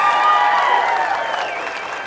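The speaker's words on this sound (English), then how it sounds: "Can we give Caucasian straight men a round of applause?" Applause from a stand-up comedy crowd sits under a prominent whistling, wavering tone that fades slightly toward the end.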